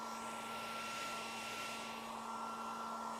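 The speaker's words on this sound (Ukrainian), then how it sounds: "Сушить він волосся всім теплим вітерцем своїм" A hair dryer blows with a constant airy whoosh and a steady motor hum, unbroken and close for the whole few seconds.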